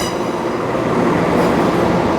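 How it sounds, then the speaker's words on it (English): A diesel cross-country passenger train rolls in with a loud, steady roar of engine and wheels on rail that builds slightly toward the end, heard close with no talking. "Oh, is this my next train? It's hard to tell. It is a cross-country service."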